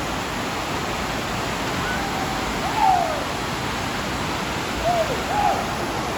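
Constant roaring rush of falling water at Harper Creek Falls fills the scene, broad and steady, with a few faint distant calls from people jumping rising briefly above it.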